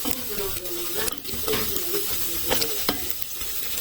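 Rice vermicelli being stirred and fried in a pan over low heat, a steady sizzle broken by repeated scraping strokes of the spoon against the pan, close and fairly loud with no talking.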